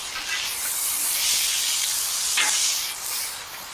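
Onions and bacon frying in a pan, a steady loud hiss and crackle of sizzling that swells slightly midway, with no talking over it.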